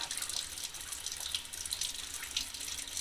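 Tap water runs steadily into a paint-shop sink as a paint roller is rinsed, a continuous close hiss and splash with no talking.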